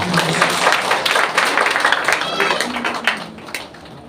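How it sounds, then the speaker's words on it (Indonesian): A church congregation gives a sustained round of clapping during a sermon, a dense, loud wash of many hands with a voice partly audible through it. "give Jesus a clap offering"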